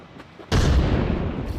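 A grenade blows up in a team shooter video game: after a quiet stretch of faint game noise, a single heavy, booming blast hits and rumbles away, fairly loud and close.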